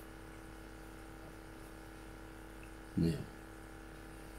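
A single brief squirt of fresh water from a turkey baster, rinsing a goldfish during wen surgery, bursts out near and fairly loud over a steady background hum, after a short spoken word.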